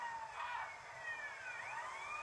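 A police car siren wails during a chase in a racing game played on a tablet, its rising and falling tone fairly close and steady over a low engine rumble, with no voices.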